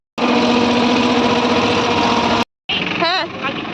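Boat engine running in the Sundarbans, a loud droning hum that cuts out briefly, then resumes with a voice speaking over it.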